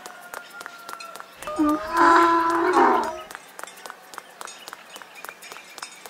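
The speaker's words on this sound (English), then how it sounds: "Donkey." A donkey brays once in the middle, a loud harsh braying call lasting about two seconds against a faint, quiet background.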